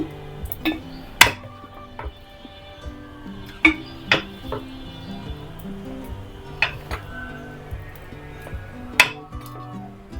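Raw mango whole-spice pickle is spooned into a glass jar, with scattered sharp clinks and taps of a spoon against glass and crockery, spaced irregularly over a quiet kitchen background.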